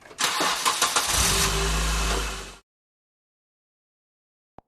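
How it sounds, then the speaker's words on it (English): A new car's engine cranks and catches, then settles briefly into a loud, close idle before stopping abruptly, followed by silence and a tiny click. "New car."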